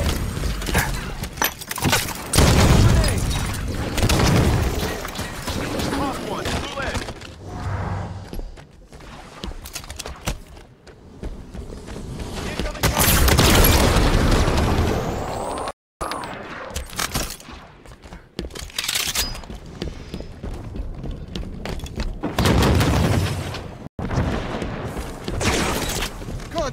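Halo 5: Guardians multiplayer combat with bursts of gunfire and booming grenade explosions, loud and dense, rising and falling across the scene with brief gaps.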